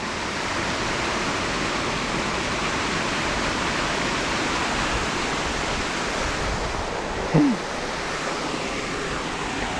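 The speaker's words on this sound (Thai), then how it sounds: "เป็นน้ำตกสองชั้นเลย" A two-tier waterfall under a concrete bridge on Khlong Saen Saep pours with a constant broad rushing roar. One brief chirp rises over it near the end.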